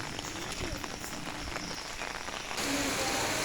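Steady rain falls in a continuous close hiss that thickens and grows slightly louder toward the end, with no voices.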